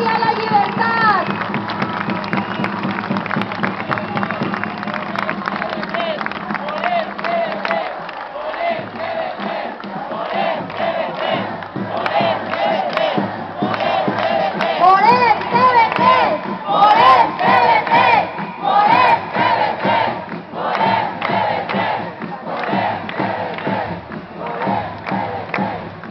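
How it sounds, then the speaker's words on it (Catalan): Large protest crowd at an anti-corruption march in Valencia, sustained loud applause mixed with cheering and chanted shouts, dense and continuous throughout, swelling toward the middle. "Un aplaudiment!"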